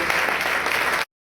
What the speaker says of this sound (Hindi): आप तालियां बजाएं